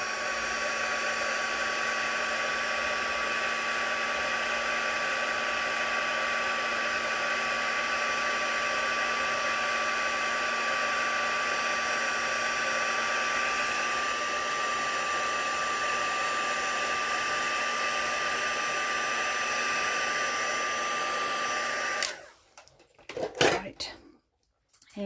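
A handheld heat tool blows with a steady whirring hiss for about twenty seconds while warming a handmade greeting card, then cuts off abruptly, leaving a few brief clatters.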